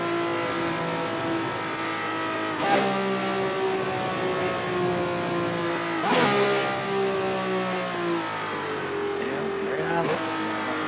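A Ferrari F40 engine drones steadily while driving, its harmonic tone climbing and dropping through gear changes, with someone talking over it throughout.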